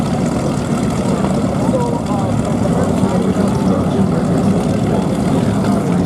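B-25 bomber engines roar past at the 2019 New York Airshow with throttles up, a loud, steady droning rumble that holds without a break.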